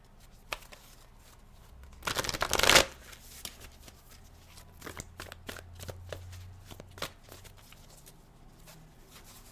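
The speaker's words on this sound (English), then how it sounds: "let me get a good little shuffle in here" A burst of tarot card shuffling, a quick riffle lasting under a second, followed by scattered soft taps and rustles of cards being handled close by.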